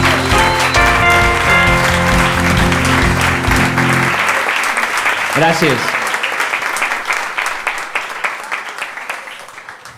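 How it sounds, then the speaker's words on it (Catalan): Audience at a live Catalan book-talk event breaking into loud applause that fades out over several seconds, with a short word of thanks spoken over the clapping. "Un aplaudiment."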